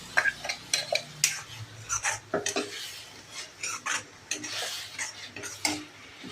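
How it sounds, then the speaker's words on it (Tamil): Tomatoes sautéing in oil in a pan while cooking a tamarind curry with yam, soft sizzling broken by irregular scraping and clinking of a spoon stirring against the pan, close and without talk. "தக்காளி கொஞ்சம் பச்சை வாடை போகிற வரைக்கும் எண்ணெயிலே வதங்கட்டும்."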